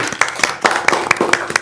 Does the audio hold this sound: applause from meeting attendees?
yes